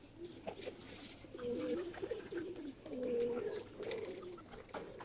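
Wild wood pigeons kept in a cage with separate coops give soft, rolling coos in several drawn-out phrases at close range, with quiet background noise between calls.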